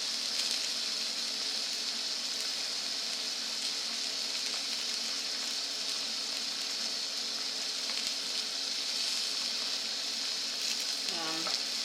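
Beef browning in a pan for a pot roast sizzles in a steady, even hiss for the whole stretch, with a brief scrape of stirring near the end and no talk over it.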